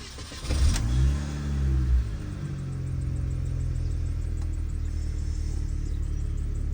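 A 2003 Mini Cooper petrol engine cranked by the starter, firing within a second with a brief rising rev, then settling into a steady close idle hum.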